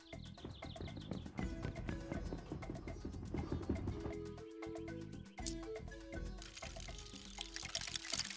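Orange juice pours from a cartoon juicing machine, a bright liquid pouring sound mixed with playful music and sound effects, moderately loud and lasting several seconds.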